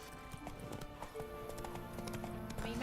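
Horse hooves clip-clop in The Witcher 3, a steady ongoing rhythm of mid-level hoofbeats, with game music and ambient sound underneath.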